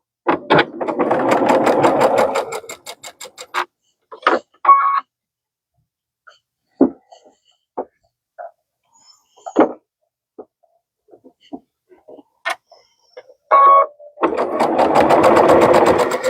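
A sewing machine stitches quilt pieces in two steady whirring bursts, one at the start and one at the end. Between them come quiet handling clicks and taps close by.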